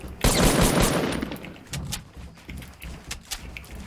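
Gunfire from players in the battle royale game Fortnite: a loud burst of rapid shots at the start, followed by scattered quieter shots and impacts that trail off over a few seconds, with no talk.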